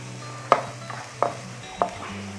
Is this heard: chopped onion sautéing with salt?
yes